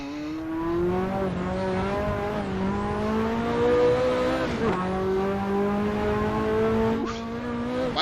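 A Ferrari F40 in Assetto Corsa on the Nordschleife, its engine droning loud and close with rising and falling revs, a quick gear change midway and tires squealing as the car slides.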